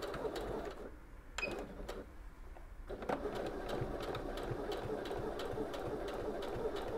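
A Singer Heavy Duty HD6805C sewing machine runs steadily up close, its fast mechanical whir and rapid needle clatter carrying on without a break and with no one speaking.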